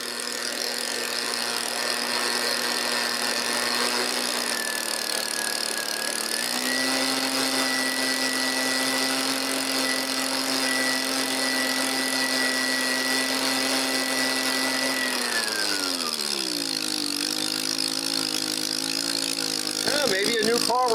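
An Echo PB 265L leaf blower's small two-stroke engine runs loud and close, holding a high whine, climbing in pitch, then sagging and wavering near the end as it struggles to stay steady.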